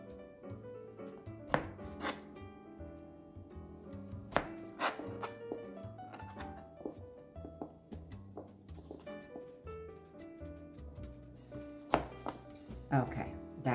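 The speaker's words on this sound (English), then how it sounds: "I'm going to continue on and cut them all" Zucchini being cut with a knife on a board, a series of irregular sharp chops and thuds, close and distinct, with quiet talk in places.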